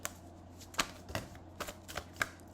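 Everyday Witch Tarot cards being shuffled, a series of quick, crisp riffling bursts in an otherwise quiet room, close and fairly soft, with no talking.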